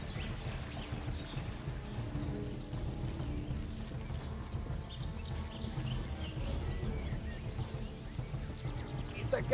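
Horse hooves galloping in the video game Kingdom Come: Deliverance, a fast steady clip-clop under a low continuous rumble, moderately faint throughout.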